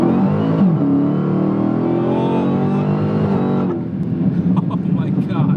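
A 900 wheel-horsepower Dodge Hellcat pulls hard from about 40 in second gear, its engine roaring loudly and climbing in pitch from inside the cabin, then easing off, with voices over it.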